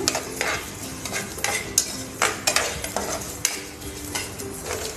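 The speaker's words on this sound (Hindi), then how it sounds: "अब हम इनको फटाफट खाली कर लेंगे प्लेट में ठंडा होने के लिए।" Spoon scraping and stirring against a pan, with clattering of utensils as raw-mango chutney is pushed out onto a plate, no talking.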